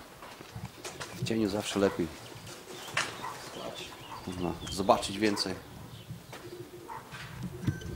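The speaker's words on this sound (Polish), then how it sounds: "to jest chyba gołąb roczny" Racing pigeons arriving at a loft after a race flight, with soft intermittent cooing and small fluttering sounds close by while someone talks quietly over them.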